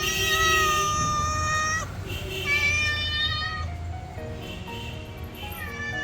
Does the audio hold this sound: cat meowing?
yes